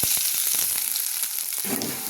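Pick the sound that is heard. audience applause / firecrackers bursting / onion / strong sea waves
onion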